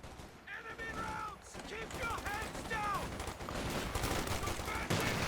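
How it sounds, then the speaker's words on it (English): Battle noise from the video game Company of Heroes 2, with steady gunfire and mortar rounds landing at a distance under a constant din. A voice talks over it and chirping whistles cut through now and then. "the American mortar just continues to plop down rounds somewhere around the middle part of the map"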